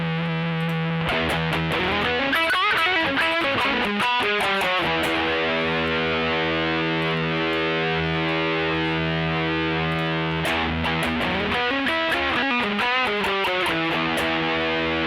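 Electric guitar through a distortion effect with symmetrical clipping running on a Sigma DSP ADAU1452, loud and saturated, with strummed chords ringing out into a sustained buzzing drone before more chords crash in.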